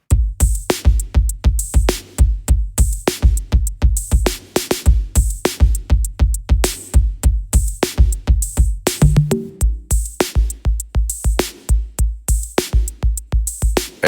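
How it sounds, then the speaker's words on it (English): A drum machine groove plays alone: a punchy, steady kick on a regular pulse with crisp hi-hats ticking on top, looping evenly and loudly throughout with only a brief fill partway through. "Everything together for the drums sounds like this."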